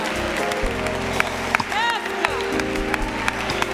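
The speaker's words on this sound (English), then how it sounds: "let's give God another hand clap of praise right there" A church congregation claps hands in praise, a steady wash of applause with sharp claps breaking through, while a voice speaks and sings over it close by.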